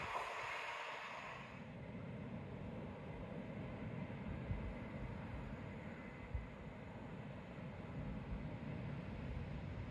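A train runs along the seawall at Teignmouth, a steady broad low rumble that holds throughout the clip without any talk over it.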